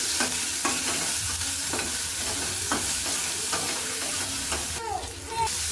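Ground green chili paste fries in hot oil while being stirred, a dense continuous sizzle with periodic spoon scrapes against the pan, close and loud.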